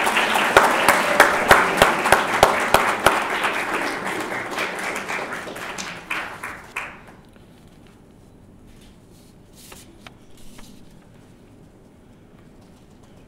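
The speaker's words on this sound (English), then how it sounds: "Please join me in giving a round of applause to Pauline Larkin." An audience at a library leadership awards ceremony applauds an award winner, a loud burst of many hands that fades out after about seven seconds, leaving quiet room tone with a few faint scattered sounds.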